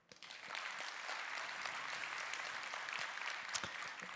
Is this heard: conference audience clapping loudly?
yes